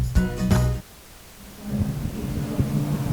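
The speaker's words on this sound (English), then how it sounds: "Frozen rain continues to fall here at Cajun Field" Frozen rain falls steadily at Cajun Field, a football stadium, during a Louisiana high school 5-A playoff game, making a continuous broad hiss. A louder, briefer burst of layered noise opens the clip before the hiss settles.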